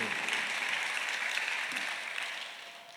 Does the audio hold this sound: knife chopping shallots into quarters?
no